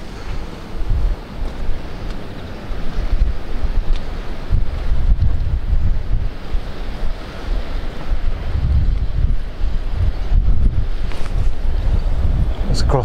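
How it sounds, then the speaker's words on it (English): A strong gale blows across the water at Instow, a loud, continuous roar of wind buffeting the microphone with a steady rumble of waves beneath, unbroken for the whole stretch. "Blowing a gale across here this morning."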